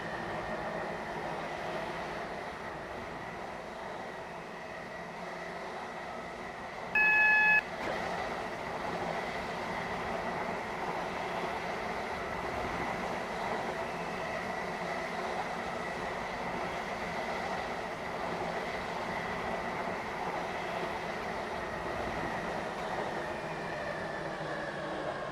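Train running on the Stepford County Railway Waterline in Roblox, a steady, continuous rolling rumble and hum lasting throughout, with a brief tonal chime partway through.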